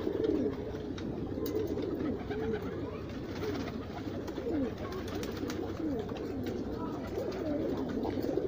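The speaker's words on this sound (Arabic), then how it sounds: "الحمام كله بيجر في قلب البيبان، كله بيشخور في قلب البيبان" Pigeons coo continuously in a loft, a dense layer of overlapping low, rolling calls close by with no pause.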